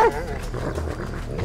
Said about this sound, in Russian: Что же делать с этими собаками?